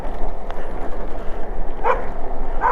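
A puppy gives a couple of short, sharp yips over steady outdoor background noise, the barks brief and not very loud.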